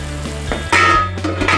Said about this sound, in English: Now the water's boiling